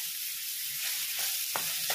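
Sliced onion and curry leaves frying in about two tablespoons of oil in a pan, a steady close hiss with a few brief stirring scrapes near the end.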